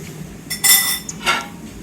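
Amla (gooseberry) jam being stirred in a pan, two short metallic clinks and scrapes of a spoon against the pan over a quiet background.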